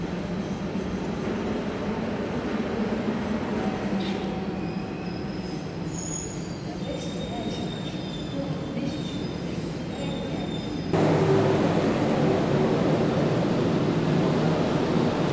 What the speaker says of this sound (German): denn da rollt auch schon unser Zug ein.